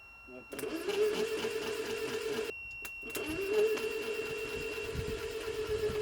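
A classic Mini's 1275 engine cranks over with a steady whirring drone, pausing briefly and then resuming, heard close up with a high whine above it.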